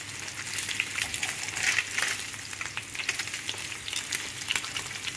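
Crispy breakfast bacon frying in a pan, a loud close crackling sizzle with bursts of popping that runs steadily throughout, with no talk.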